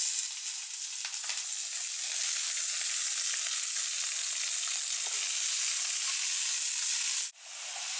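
Sow thistle greens sizzling and frying steadily in a frying pan, a loud continuous hiss with light crackle throughout, briefly dipping near the end, no voices.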